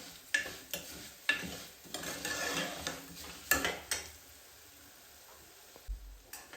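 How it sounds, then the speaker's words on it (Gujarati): Dried fruits and nuts sautéing in ghee for fada lapsi, a quiet sizzle under intermittent scrapes and clinks of a spoon stirring against the pan, with soft irregular knocks and no talking. "તો મેં એમાં નાખી દીધા છે એટલે એ પણ ઘીની આરે સંતળાઈ જશે."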